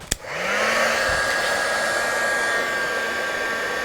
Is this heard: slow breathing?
no